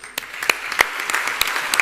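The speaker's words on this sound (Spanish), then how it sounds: "así que un fuerte aplauso para él" At a business luncheon, a small group gives the Minister of Economy and Finance a round of applause, heard as a few distinct, sharp claps spaced irregularly over a quiet room rather than a dense ovation.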